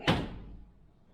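Battered old hotel bathroom door in Bangkok opening with a single close thunk and a short fading rattle, heard alone in a quiet room.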